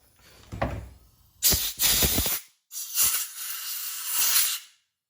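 Compressed air blows out parts of a McCulloch Pro Mac 700 chainsaw near the carburetor in two loud bursts of hissing with short rattles, close and separated by a brief pause.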